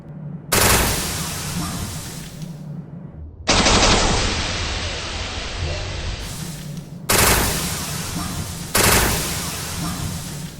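Charged Particle Rifle firing in Resident Evil: Dead Aim, four loud sustained energy bursts with sharp onsets, each lasting one to three seconds, close and alone without talk.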